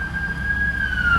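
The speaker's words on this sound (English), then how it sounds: "Sorry about the ambulances." Ambulance siren wailing through the streets of West Hollywood, a loud, sustained tone that bends slowly downward across the short stretch, over low traffic rumble.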